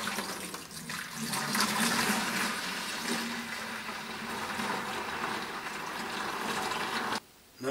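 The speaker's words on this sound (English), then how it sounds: "I've got a somewhat clean bucket that I'm going to decant all of this AP in so I can rinse off the IC chips" AP solution being decanted into a bucket to rinse IC chips, a steady rushing pour of liquid that runs for several seconds before cutting off abruptly near the end.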